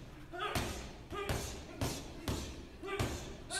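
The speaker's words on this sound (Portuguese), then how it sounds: "Esse saco de pancada já é bem pesado, deve ter uns 80 quilos, 70 quilos no mínimo." A heavy punching bag of roughly 70 to 80 kilograms takes a series of strikes during fighter training: five or six loud, dull thuds land at a steady pace about half a second apart.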